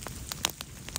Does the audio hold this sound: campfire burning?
yes